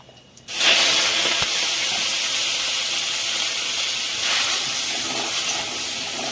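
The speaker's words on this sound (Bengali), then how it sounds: "আর চিংড়ি মাছটা এবার দিয়ে দেবো কড়ায়।" Prawns hit hot oil in a wok with five-spice seeds, bursting into a loud, steady sizzle that holds near and continuous after a brief quiet start.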